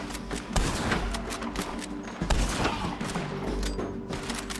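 Rapid bursts of gunfire in the Western video game Red Dead Redemption 2, a dense, loud fusillade of overlapping shots and booms running continuously throughout with heavier thumps near the start and middle.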